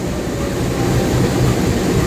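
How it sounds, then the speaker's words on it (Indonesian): A stainless steel Argo Muria passenger train rolls into track 1 at an Indonesian railway station, giving a loud, steady, broadband rumble of wheels and carriages with no distinct clicks or voices. "ini kereta api Argo Muria sudah masuk di jalur 1 dan menyusul kereta api Matarmaja"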